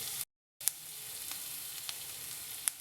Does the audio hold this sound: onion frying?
yes